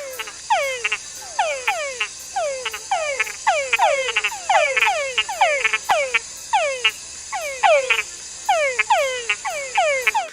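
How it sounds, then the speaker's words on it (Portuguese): Male Hutt-Húngara frogs sing long night serenades in a group, a dense chorus of repeated sweeping croaks and chirps that overlap in steady bursts, loud and close throughout. "Os machos de Hutt-Húngara cantam longas serenatas durante a noite."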